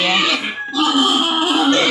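Hungry pigs just bathed on a small farm squeal loudly and continuously up close, with a brief dip midway before the noisy, insistent calling resumes.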